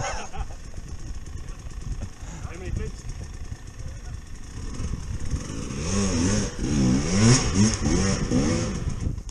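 A 2020 KTM 350 EXC-F enduro motorcycle on a steep hard-enduro climb, its engine revving up and down loudly and close in the second half while people talk over it.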